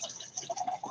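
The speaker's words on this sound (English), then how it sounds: "I'm pouring in Arizona's green tea with ginseng and honey." Arizona green tea with ginseng and honey being poured, a short, quiet liquid trickle with small glugging bursts, heard close and alone.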